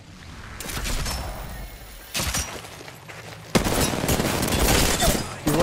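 An R-99 submachine gun fires in Apex Legends in three loud, rapid bursts of automatic fire close up, with short gaps between them.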